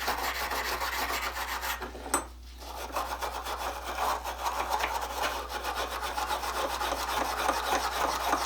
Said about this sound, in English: I think this hand wire brush is probably going to get